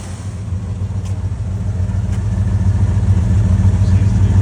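A 1975 Ford E100 van's engine idles steadily while warming up, a loud, continuous low rumble that builds slightly in level over a few seconds, with no talk over it.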